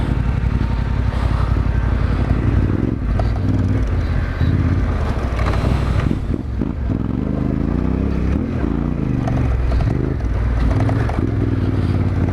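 A Yamaha Tenere 700 (T7) climbs gravel mountain terrain, its engine droning loud and steady up close with rising and falling revs, while loose stones clatter and scrape beneath the tires throughout.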